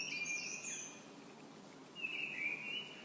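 Birds in olive trees call with thin, high whistled notes at the start and again near the end, faint and slightly distant over a quiet outdoor background.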